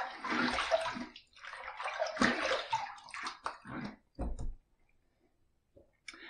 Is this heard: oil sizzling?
no